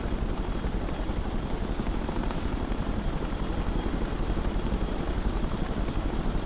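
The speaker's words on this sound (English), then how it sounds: "But we can heavy lift this M113." Chinook helicopter heavy-lifting an M113 armored carrier in the war game Broken Arrow, a steady dense rotor thrum and engine roar that holds unbroken throughout.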